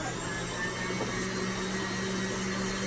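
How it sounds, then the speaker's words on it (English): An electric mixer whirs steadily through vanilla cake batter, a constant motorized drone with a faint tonal hum, close and alone without talk. "I'm going to mix the rest of this up while you're gone"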